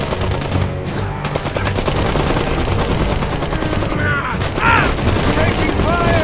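Loud, dense gunfire in the video game Iron Harvest, with rapid machine-gun bursts and rifle shots in continuous battle noise. Voiced unit callouts and clanking mechanical effects sound over it.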